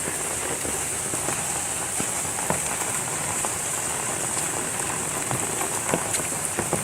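Steady rain falls on freshly planted tropical plants, corn and coconut trees, a dense even hiss with scattered nearby drips and no voices.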